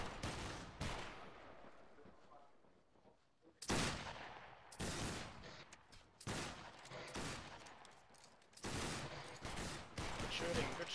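Musket volleys in the Battlegrounds 3 line battle video game, several broad booming salvos at irregular intervals with crackling echoes between, some loud and close, others more distant.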